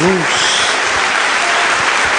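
A church congregation breaks into loud, dense applause for Jesus, a continuous wash of many hands clapping close and full, with a voice briefly heard at the start.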